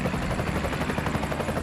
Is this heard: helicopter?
yes